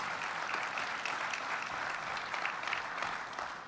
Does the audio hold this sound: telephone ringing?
no